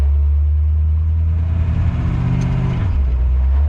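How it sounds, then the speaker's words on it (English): A carbureted engine with a 700R4 automatic transmission runs steadily and loudly at close range as it is put through the gears, its deep rumble holding level before dropping in pitch near the end. "I'm going to just kind of run her through the gears here."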